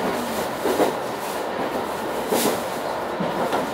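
Steady rumble of a Japanese rapid train to Karuizawa rolling along the rails between Nagano and Ueda, with soft periodic rattles and a faint hiss, heard from inside the carriage, no talking.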